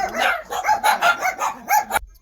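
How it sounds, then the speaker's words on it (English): Dogs bark close and loud in a quick series of about eight yaps and woofs, then the sound cuts off abruptly. "So sorry about the dogs."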